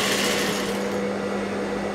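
A sewing machine runs steadily and close by, double-stitching piping onto a prince-cut blouse with tucks. The motor whirs continuously with a constant tonal hum and no pause or talking.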